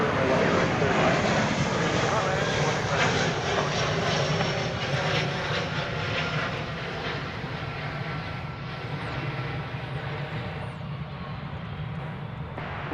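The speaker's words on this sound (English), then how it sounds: "Airbus A319, Flight 1907, American Airlines, coming in from Gunnison, Colorado." An American Airlines Airbus A319 on its landing approach at DFW Airport roars loud and steady, its broadband engine noise slowly easing over about thirteen seconds.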